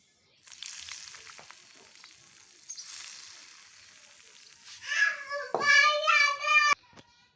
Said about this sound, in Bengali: এই পর্যায়ে আমি গরম তেলটা দিয়ে দিচ্ছি।